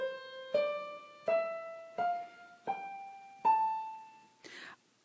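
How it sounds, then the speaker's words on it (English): An A natural minor scale played note by note on a keyed instrument, six evenly spaced ascending tones with clear sustained pitches, moderately quiet, then a short noisy burst at the end. "Our A natural minor scale sounds like this."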